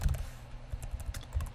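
Someone types on a computer keyboard, with quick, uneven clicks and clustered keystrokes that are near and moderately quiet, with no talking.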